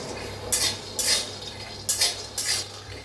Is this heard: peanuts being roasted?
yes